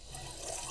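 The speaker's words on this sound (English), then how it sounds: "I'm hearing fuel go through" Fuel from an old V12 that sat for 20 years trickles through a line into a plastic bottle, a steady soft liquid splashing and gurgling throughout, fairly faint and close.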